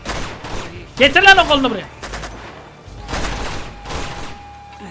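Gunfire in Uncharted 2 Among Thieves Remastered, a train battle, with bursts of shots scattered across the clip under someone talking loudly.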